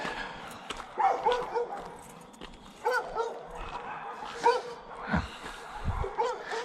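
Several dogs bark and yip in scattered bursts at moderate distance, overlapping irregularly across the whole stretch with some whimpering mixed in.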